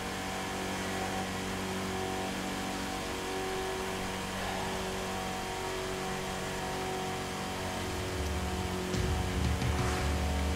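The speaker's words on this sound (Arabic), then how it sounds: "تسوق السيارة هذي في المكان هذا بالصدق." A car engine from the driving game The Crew 2 drones steadily at a constant mid-pitched tone, with a slight rise in revving near the end, heard alone without voices.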